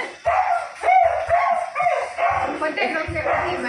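Dogs barking and yipping in short irregular bursts, fairly close, mixed with household talk over the whole stretch.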